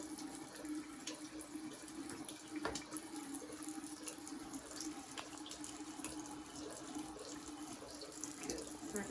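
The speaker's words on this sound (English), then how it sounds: "I'm just going to give these a quick rinse." Tap water runs steadily into a sink while freestanding embroidered lace earrings are rinsed, making a faint, continuous splashing hiss with a few small clinks and no voices.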